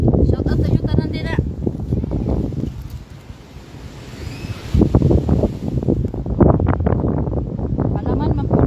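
Strong wind gusts at the seaside buffet a phone microphone with loud, steady rumbling, easing briefly midway before surging again, while a person talks over it.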